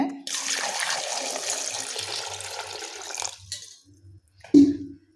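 Tap water runs steadily into a kitchen sink over sweet potatoes being washed for about three seconds, then stops, followed by a few faint clinks and a short splash.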